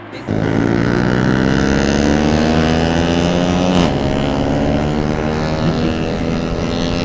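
Loud, constant exhaust roar of a Bajaj Pulsar RS200 sports motorcycle while riding, with a strong droning hum, steady throughout and close, with one brief gear-like shift midway; no talking.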